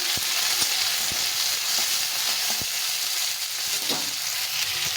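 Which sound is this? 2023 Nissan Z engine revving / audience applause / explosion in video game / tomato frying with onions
tomato frying with onions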